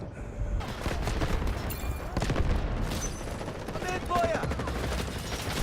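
Rapid gunfire in the video game Delta Force crackles in dense bursts over a busy, noisy game soundtrack, with a few sharp louder shots standing out.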